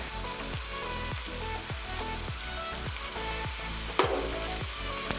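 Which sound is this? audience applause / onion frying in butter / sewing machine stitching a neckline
onion frying in butter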